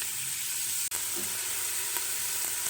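Onions frying in hot oil inside a pressure cooker, a steady bright sizzle with a sharp clack near the start and faint stirring scrapes.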